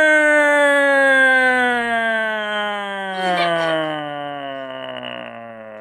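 A human voice imitating a tornado siren: a long, sustained wailing tone that slowly falls in pitch over several seconds, with a brief burst of laughter or noise midway before the wail continues and fades.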